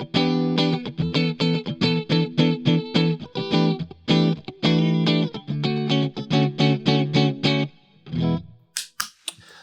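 Epiphone Les Paul Custom Pro electric guitar from 2014 with pickups switched to single coil mode, played through heavy distortion with rapid strummed chords in quick rhythmic bursts, then a pause and a few sharp final hits.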